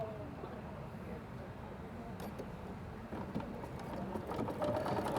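Bernina B790 Ultra sewing machine stitching with a steady, soft mechanical whir that grows slightly louder toward the end, heard close by with no talking.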